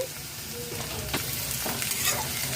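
Chilli powder, turmeric and cumin powder sizzling in a pan for pav bhaji while being stirred, a continuous close frying hiss with occasional scrapes of the spoon against the pan.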